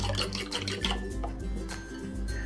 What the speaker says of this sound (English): Give this all a good whisk.